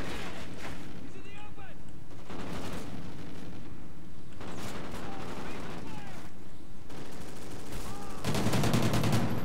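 Rapid bursts of gunfire from a multiplayer shooter game, Call of Duty Ghosts, crackle in repeated volleys with brief pauses, steady and loud, with a player's voice talking faintly over the action.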